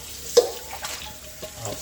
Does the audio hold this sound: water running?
yes